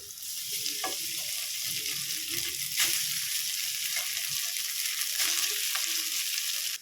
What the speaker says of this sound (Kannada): ಈಗ ಅನ್ನ ಹಾಕ್ತೀನಿ.